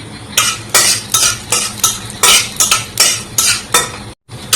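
Peanuts frying in hot mustard oil are stirred in a pan with a utensil. About ten quick, rhythmic scraping strokes sound up close and loud, with no talking.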